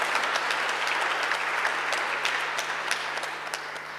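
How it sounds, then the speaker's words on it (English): An audience at a fireside chat event applauds a guest being welcomed, a broad, continuous round of clapping that stays full throughout before easing slightly at the end. "a round of applause and welcome to Zeinab Badawi"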